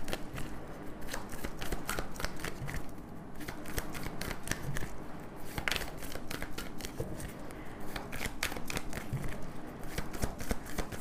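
Tarot cards being shuffled in a steady run of crisp riffling flutters and soft slaps, close and moderately loud, continuing throughout with no talk over it.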